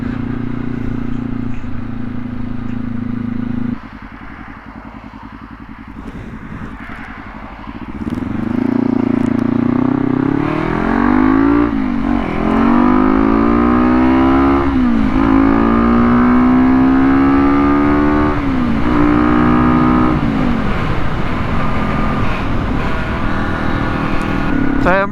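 A Kawasaki KLE500 motorcycle with rejetted carburettors revs loudly and close on a test ride, its engine note rising and falling in repeated surges after a steadier, quieter opening stretch.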